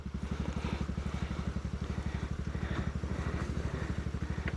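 Motorcycle engine running hard with a fast, steady pulsing throb, loud and close throughout, as the bike nearly lifts its front wheel on a dirt trail.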